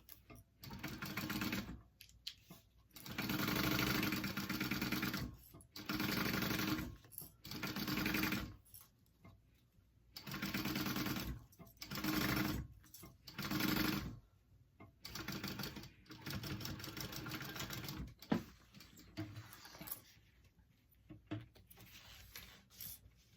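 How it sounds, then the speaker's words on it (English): Sewing machine basting a handbag seam, close rapid mechanical clatter in repeated short runs of a second or two, stopping and starting with quiet gaps between. "I'm going to just baste that on real quick"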